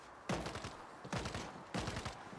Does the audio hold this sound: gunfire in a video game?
yes